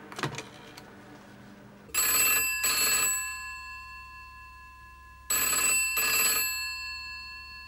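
A telephone rings out while a call is being placed, two loud bursts of double electronic trills separated by a long pause, close and clear, with no one talking.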